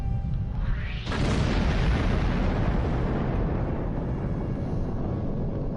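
A Romulan Deradex warship blows up in the Star Trek Online game, a loud, deep rumbling explosion with a rising burst that swells and then roars on steadily.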